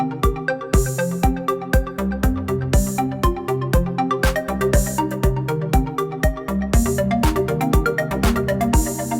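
Roland Jupiter Xm synthesizer playing a layered patch over a programmed rhythm track, with punchy repeating drum hits and bright arpeggiated synth notes in a busy, loud, driving groove.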